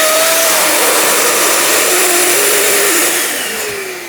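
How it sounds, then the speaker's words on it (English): An air inflator blows steadily into a balloon for a centrepiece, a loud continuous broadband rush with a faint whine that shifts slightly in pitch and tapers off near the end. "we're going to chuck a little bit of air in here to begin with"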